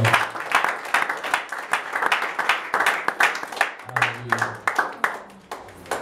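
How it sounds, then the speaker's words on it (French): Congregation applauding at a church faith conference, a dense round of clapping from many hands in a large room, loud and continuous, with a faint voice audible underneath. "Nous acclamons très fort le Seigneur."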